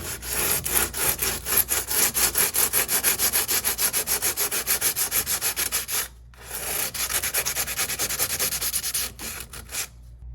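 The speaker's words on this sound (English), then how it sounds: "So I'm gonna have to go in here with some sandpaper and tear all this up too." Sandpaper rubbing hard against a rusty, paint-flaking microwave, loud rapid back-and-forth strokes continuing steadily with one brief pause midway.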